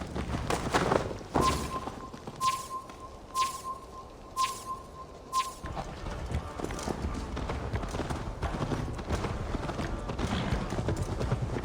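Horse hooves clip-clop in the Viking-era game Assassin's Creed Valhalla, a steady series of close, regular hoofbeats that run throughout with a faint tonal chime early on and a voice talking briefly over them.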